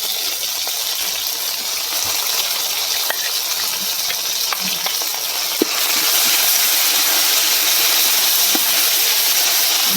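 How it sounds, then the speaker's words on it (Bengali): Masala spice paste fries in a pan while being stirred for a Bengali gota siddho dish, giving a steady, close sizzling hiss that swells louder partway through, with a few small clicks and no talking. "ভালো করে কষিয়ে নেবো।"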